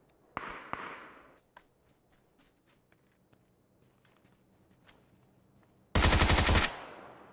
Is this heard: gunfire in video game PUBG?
yes